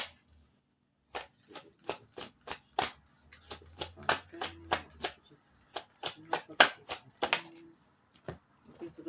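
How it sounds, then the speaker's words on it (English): A Self Awakening oracle card deck is shuffled by hand in a quiet room, a long run of quick, crisp riffling bursts with short gaps between them. "Let's give it a bit of a shuffle"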